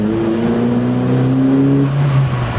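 A car drives off with a steady engine drone and a rising hum of acceleration, close and fairly loud, fading into road rumble with no speech.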